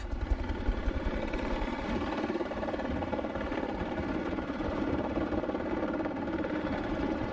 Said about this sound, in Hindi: फ्लाइट लेफ्टिनेंट ग्रोवर एक चैलेंजिंग पिलर लैंडिंग कर रहे हैं और वो ये काम बखूबी करते हैं।